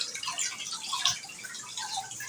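Fish being rinsed in a basin of clean water, with soft splashing and trickling, small drips and sloshes at close range and a slightly sharper splash midway.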